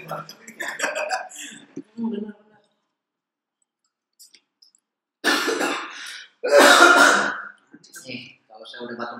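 After some talking and a quiet pause, two loud, harsh coughs ring out close up, followed by a few softer throat sounds and murmurs.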